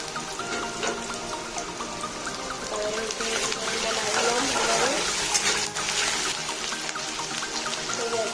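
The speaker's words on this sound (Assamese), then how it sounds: "তেলখিনি গৰম হৈছে। মই ইয়াত পিঁয়াজখিনি দি ল'ম, আদা নহৰুখিনি দি ল'ম" Onions, ginger and garlic fry in hot oil for a catfish curry, giving a steady bright sizzle with stirring scrapes throughout and soft background music.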